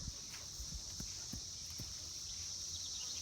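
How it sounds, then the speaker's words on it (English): Sheep hooves clop on the ground in a few soft, irregular steps as the animals approach. The steps are faint and sit over a steady high-pitched background hum. "Here come the sheep."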